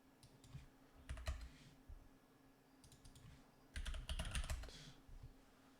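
Computer keyboard typing in short bursts of quick clicking keystrokes, two clusters separated by quiet pauses, close and fairly soft.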